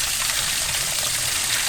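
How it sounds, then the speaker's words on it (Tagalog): Mountain spring water in an eco park flowing steadily from a pipe or channel, a close, continuous rushing trickle that holds at an even level throughout the short moment, with no talk over it. "May patubig din dito, oh. Galing sa bundok."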